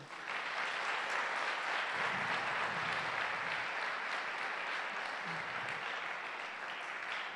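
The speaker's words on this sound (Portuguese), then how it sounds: "Vamos dar um aplauso ao Senhor." A church congregation applauds the Lord during a sermon, a continuous dense clapping that holds steady for several seconds, with low musical tones faintly beneath.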